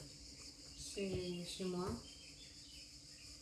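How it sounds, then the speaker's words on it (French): Cicadas drone and buzz steadily through a very hot July day, a dense high shimmer running beneath a voice speaking in French. "On entend beaucoup les cigales."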